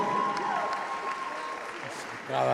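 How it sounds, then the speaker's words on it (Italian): Crowd applause for the MVP after a women's Serie B basketball game between BFC Conegliano and Famila Schio, moderate and distant under a tonal whistle, with a voice breaking in at the end. "un grande applauso per l'MVP di oggi"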